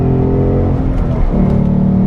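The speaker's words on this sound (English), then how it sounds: "it is the 5-litre V8 naturally aspirated, so there is zero lag" Naturally aspirated Ford Mustang 5.0 V8 revving while driving, a loud close engine note holding a deep rumble, dipping briefly and then swelling again as the revs rise, with no voices over it.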